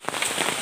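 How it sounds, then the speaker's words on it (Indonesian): Heavy rain pours down at a forest camp, making a steady, dense hiss of drops close by with no break. "Ini udah hujan."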